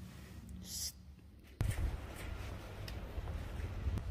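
Gusts of wind buffet the microphone in low rumbling bursts, with a brief rustle early on and an outdoor hush between.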